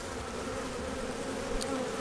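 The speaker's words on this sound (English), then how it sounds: "That bee's got propolis on its legs." Honeybees buzz steadily around an open hive during a cool 58°F autumn inspection, a continuous close hum with no talk over it.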